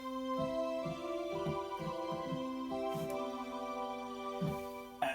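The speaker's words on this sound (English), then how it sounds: "If you're adding the cello together with an 8-foot flute, it will sound like this." Electronic organ sounding its cello stop combined with an 8-foot flute, a richer reedy tone of sustained chords changing step by step, with faint key clicks and no voices.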